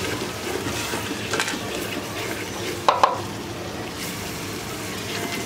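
Turmeric powder and other ground spices being stirred and fried in a pan, a steady low sizzle with brief scraping stir strokes, including a couple of sharper clinks near the middle, close by and with no talk.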